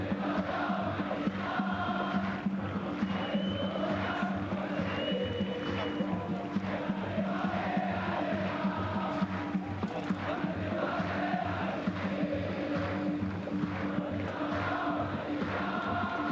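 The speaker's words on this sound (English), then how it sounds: "Partisan crowd, it's safe to say here." Partisan stadium crowd at an AFC Champions League football match between Sharjah and Al Hilal in Riyadh, a dense sustained roar with rhythmic chanting and drumming that holds steady throughout, distant and enveloping.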